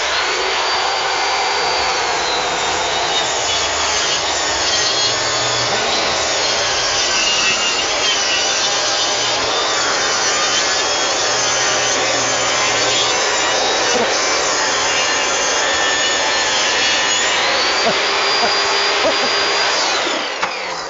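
A power saw cuts pressure-treated fence wood in a loud, continuous, high-pitched whine with a rasping edge that varies slightly in pitch, running without pause for the full stretch with no talking.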